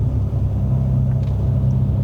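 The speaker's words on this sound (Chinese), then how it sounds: "这样子改了这个轮胎之后，我觉得它噪音高很多" Heavy low road and tyre roar inside a facelift GN5 Honda City Hatchback RS on the move, with changed tyres, a constant cabin rumble with a few faint brief rattles.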